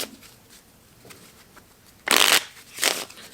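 A deck of playing cards is shuffled, with faint handling rustles followed by two sharp riffling bursts close to the mic, the first longer than the second.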